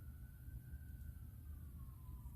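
An emergency vehicle siren sounds outside, a faint, distant, slowly falling wail held steady over low background rumble.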